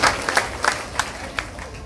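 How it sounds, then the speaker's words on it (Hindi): Scattered applause from an audience at a seven-day Bhagwat Saptah religious gathering in Noida, thin and uneven with a few sharper claps standing out over a roomy background. "उनके लिए जोरदार ताली बजाए।"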